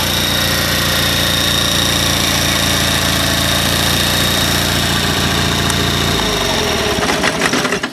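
Honda 3813 engine with shaft drive idling steadily and loudly up close, a constant low rumble with mechanical clatter that cuts out abruptly near the end as the engine is shut down.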